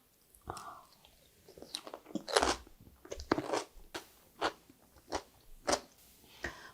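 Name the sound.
chewing crunchy pickled cucumber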